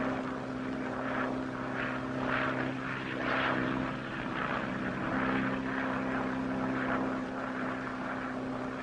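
Propeller airplane engine from a 1937 film, a steady droning roar with gently swelling loudness, continuous and without speech.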